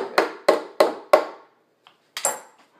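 A hammer strikes while an Acer monitor is being modded: four sharp, evenly spaced, close blows, a short pause, then two more hits.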